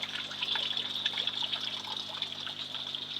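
Water pours steadily into a container being filled for a pond plant, a close, continuous trickling splash with a faint hum underneath.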